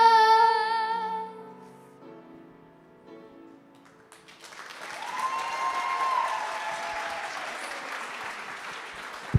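An audience applauds a group of girls at a school academic awards and 7th grade graduation ceremony, clapping rising after a moment of music and swelling into sustained, fairly loud applause that carries on to the end.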